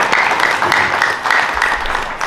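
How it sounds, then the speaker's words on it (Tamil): A festival audience at a Tamil cultural evening and conference applauds with steady, dense, loud clapping close by, lasting a couple of seconds. "அவருக்கு நீங்கள் எல்லோரும் ஒரு முறை கரகோஷமும் கொடுக்க வேண்டும் என்று நான் ஆசைப்படுகின்றேன்"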